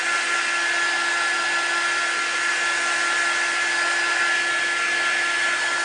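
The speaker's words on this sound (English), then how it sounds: "And this is just an air drying tool" A low-heat air drying tool blows a steady, even rush of air with a faint whine, unchanging and continuous throughout, with no voices.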